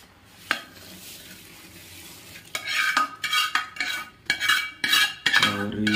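Puffed rice being stirred into melted jaggery in a pan on a lit gas stove, with quiet scraping at first, then louder rhythmic rustling and scraping bursts as the mix is turned quickly.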